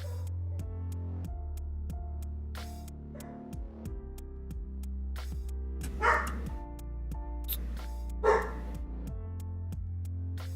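A dog barking at kids walking by after school, two or three muffled barks heard indoors, rising above a steady low electrical hum.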